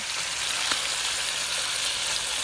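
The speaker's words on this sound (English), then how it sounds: "I'm gonna flip the steak." Steak frying in a pan, a steady, loud hiss and crackle of sizzling fat that runs unbroken and close up, with no voices over it.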